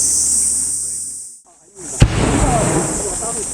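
A grenade detonates at an army grenade training range with one sharp, loud blast after a brief hush, followed by a rolling, noisy aftermath; a voice talks before the blast.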